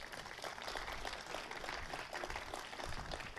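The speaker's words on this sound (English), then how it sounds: "A round of applause for them" Crowd applause at an outdoor civic ceremony honoring former Los Angeles Mayor Tom Bradley near the Coliseum, a steady dense wash of clapping from a fairly distant crowd, continuous and even for a few seconds.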